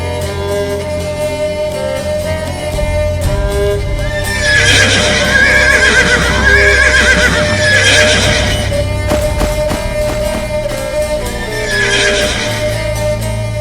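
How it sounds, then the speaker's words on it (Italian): A horse neighs loudly several times over a rhythmic clatter of hooves and a loud backdrop of music or noise. "Hai fatto fuggire il cavallo!"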